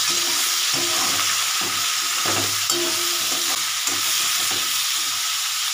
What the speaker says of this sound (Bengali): আচ্ছা, এবার আমি পেঁয়াজটা দিয়ে দিচ্ছি।